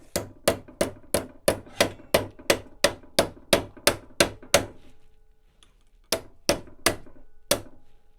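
A hammer rings out in steady, evenly spaced strikes on a metal piece held in a vise, bending it into a 90-degree shelf bracket. A run of about thirteen close, sharp blows is followed by a brief pause and four more.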